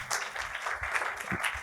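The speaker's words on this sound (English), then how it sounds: "Round of applause for her." Audience applause at a visioning and strategy masterclass, a steady wash of many hands clapping close by, fairly loud and continuous for a short stretch with no talk over it.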